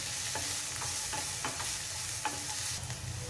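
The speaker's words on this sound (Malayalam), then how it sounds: "പച്ചമുളക് അരിഞ്ഞത്, ഉള്ളി അരിഞ്ഞത് ഒന്ന് ചെറുതായിട്ട് വഴറ്റിയെടുക്കുക." Chopped green chilli and onion sautéing in a pan for homemade wheat noodles, a steady close sizzle with intermittent scrapes and knocks of a stirring spoon, no voices.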